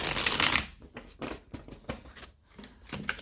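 A deck of playing cards is shuffled and cut for a tarot-style reading: a loud riffling burst at the start, then a series of sharp, separate card snaps and slaps heard up close with no talk.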